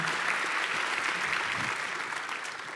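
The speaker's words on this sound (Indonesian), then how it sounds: "Boleh tepuk tangan" A studio audience at a comedy show applauds, a full, continuous roar of clapping that holds steady and then eases slightly toward the end.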